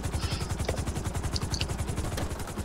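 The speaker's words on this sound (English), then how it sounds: "It's a helicopter." Helicopter in the video game GTA V, its steady rotor chop pulsing rapidly and continuously at close range, loud and unbroken with no talk over it.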